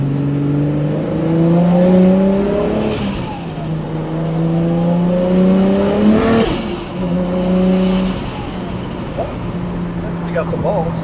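A Fast & Furious style Toyota Supra revs on a street, its engine rising and falling in several strong pulls and loud close-up throughout, with people talking over it.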